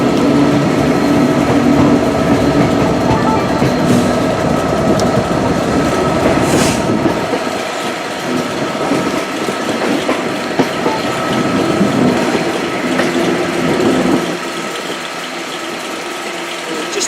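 Train pulling out of Newport station around a curve, a steady rumble with rhythmic clickety-clack of wheels over rail joints and some squealing, loud and close throughout.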